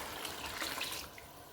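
Water poured and drained off cooked beans in a kitchen, a faint splashing trickle that fades after a second.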